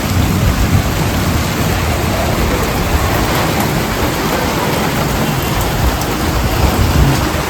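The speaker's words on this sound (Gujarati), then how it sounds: "આજે પણ વરસાદ ચાલુ થઈ ગયો છે અને કડાકા પણ જોરથી થાય છે" Heavy summer downpour in Dhajala drums steadily and loudly on surfaces close by, with deep rolling thunder rumbling underneath throughout, no voices present.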